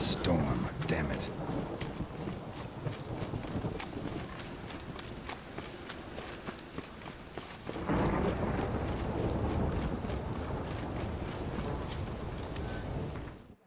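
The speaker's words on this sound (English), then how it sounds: "The storm, damn it." Thunderstorm in a video game: rumbling thunder and steady rain wash fill the scene, with hoof-like clopping in the mix and a sharp swell of louder storm noise partway through, continuous and close throughout.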